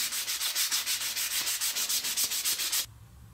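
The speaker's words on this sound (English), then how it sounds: "So I'm going to finish sanding this" Hand sanding of wooden chopsticks: a steady run of about twenty quick, rhythmic abrasive strokes, close and fairly loud, then stopping abruptly into quiet room tone.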